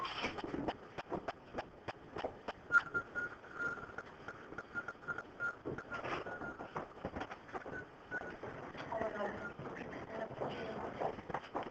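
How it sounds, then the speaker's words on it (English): A faint, thin whistle from a person holds a steady pitch through repeated clicking and tapping noises in a quiet classroom. "Stop whistling, please."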